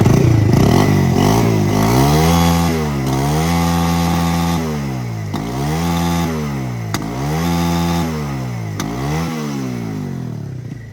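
A loud motorcycle engine with a popping exhaust revs up and drops back several times in a row, close by, with a harsh buzzing exhaust note.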